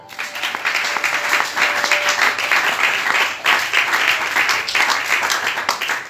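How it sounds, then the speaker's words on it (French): A church congregation bursts into loud, sustained applause to acclaim the Lord, with steady clapping and shouts that briefly dip, then swell again. "Quelqu'un peut acclamer le Seigneur."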